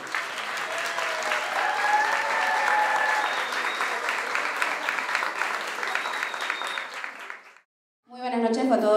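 Applause at a school graduation party, dense clapping that swells and fades out, with voices mixed in and a short silence before a person starts talking near the end.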